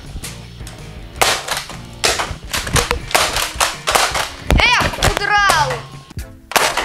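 Toy guns fire a rapid series of sharp cracks and pops, mixed with children's excited voices and squeals nearby.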